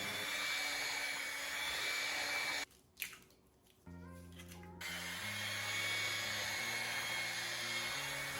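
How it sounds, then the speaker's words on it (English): An electric mixer blends eggs into sweet potato pie filling with a steady motorized whir, cuts out for about a second, then starts again with a shifting hum. "we're going to add our eggs. And we're going to mix those in"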